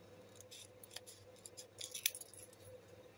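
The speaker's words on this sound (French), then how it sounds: "Alors j'utilise ces ciseaux" Small scissors snip paper for a collage, a few quiet, crisp cuts and metallic clicks close to the microphone, with one sharper snip near the end in a hushed room.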